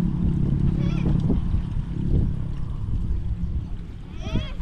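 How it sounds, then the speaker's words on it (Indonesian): A cat meows a few times, short rising cries over a low outdoor rumble of water and movement at a fish-netting spot, with people talking nearby. "kucing."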